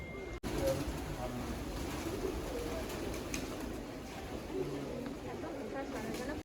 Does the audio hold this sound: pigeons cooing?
yes